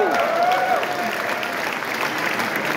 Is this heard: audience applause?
yes